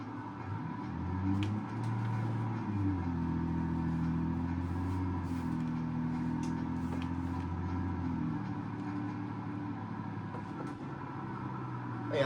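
A 2027 Ram 3500 Big Horn with a 7.2L I6 Cummins turbo diesel in BeamNG Drive drones steadily, its engine note stepping up and down through gear shifts, with a few faint clicks.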